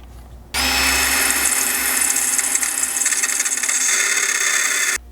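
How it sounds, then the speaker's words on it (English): Power drill boring through a metal skid plate bracket on a Ford Bronco Sport, a loud, close, steady high-pitched grinding whine that starts abruptly and runs about four seconds before stopping. "Now you can drill through the bracket using it as a guide."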